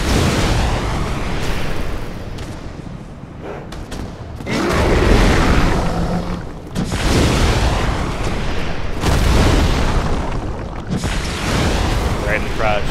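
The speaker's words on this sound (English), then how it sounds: "Gonna use up all my fireballs." Fireball spells burst in a Dark Souls–style video game as a series of loud booming explosions, several heavy blasts spaced through a busy stretch of game audio.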